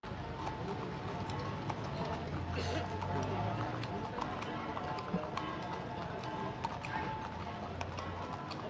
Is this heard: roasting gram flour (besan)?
no